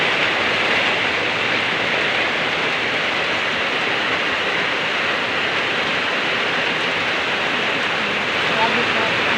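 Heavy rain pours down steadily and loudly, a dense broadband hiss that stays constant throughout with no breaks, likely outdoors on a street with vehicles nearby.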